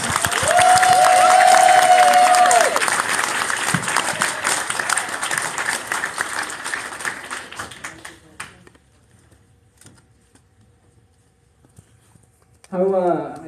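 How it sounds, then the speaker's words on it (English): A crowd at a convention closing ceremony applauds loudly, the clapping gradually thinning and fading out, followed by a brief pause and then a voice beginning to speak. "Give yourselves a huge round of applause."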